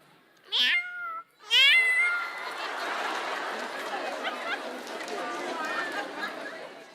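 A human voice imitates a cat with two short, rising meows, loud and close, followed by a steady murmur of crowd chatter and laughter.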